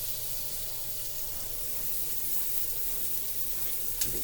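Scallops sizzle in hot oil in a pan, a steady close hiss of frying that runs without a break, with one faint clink near the end.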